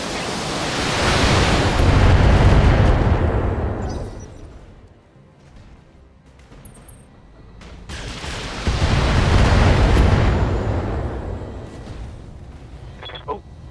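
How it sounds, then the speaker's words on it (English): Missile barrage from a BattleTech mech in a video game: two long, loud rumbling roars of massed explosions, each swelling and fading over several seconds, separated by a quieter lull. "Awesome gets the missile barrage."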